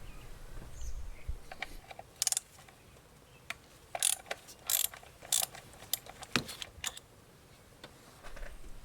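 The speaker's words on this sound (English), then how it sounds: "Now I'll unscrew the bolt holding down the coil with a 10mm socket." A ratchet with a 10mm socket loosens the ignition coil bolt on a 2014-2018 Toyota Corolla 1.8L, sharp clicking bursts in short irregular runs, close and crisp over a quiet background.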